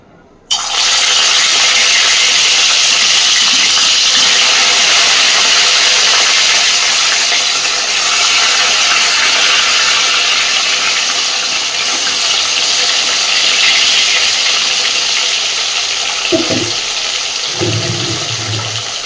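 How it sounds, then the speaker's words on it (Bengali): Pieces of catla fish rubbed with salt and turmeric drop into hot oil with a sudden onset, then a loud, dense, steady hiss of frying that continues close up, with faint clinks near the end and no speech. "এবার আমি সবার আগে লবণ হলুদ মাখিয়ে নেওয়া মাছগুলো হালকা করে ভেজে নেব"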